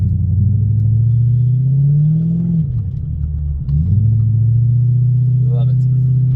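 A Lexus LS400 fitted with performance brakes cruises at normal speed, its engine a loud, steady close-up hum that dips briefly in pitch midway, as if shifting, before settling back.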